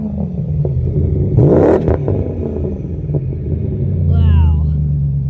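Low, rumbling idle of a performance-modified BMW car engine with a brief rev swelling in the middle, close and loud, while a person talks over it.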